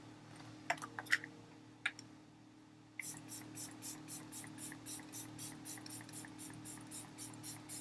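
A fine mist of LYS Natural Finish Skin Loyalty Setting Spray sprays onto a face in a steady series of short, regular puffs, about a dozen bursts, preceded by a few light clicks and taps.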